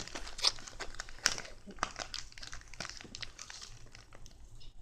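Plastic zipper bags from a set are handled up close, giving continuous crisp crinkling and rustling with irregular sharper crackles.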